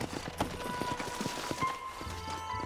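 Horse hooves clip-clopping in Red Dead Redemption 2, a run of quick, close thuds with a faint whinny mixed in over a steady game-world background.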